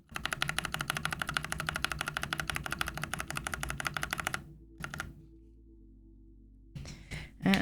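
Rapid, even typing on a mechanical keyboard with Kinetic Labs Husky linear switches, smooth, muted keystrokes in a steady stream, then a pause and a few scattered key presses near the end.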